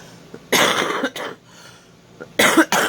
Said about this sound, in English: Oh yes, the cough is back.